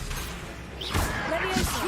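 Expelliarmus spell cast in Hogwarts Legacy, a brief whooshing magical burst followed by a sharp impact, with a second swish close behind, loud and near.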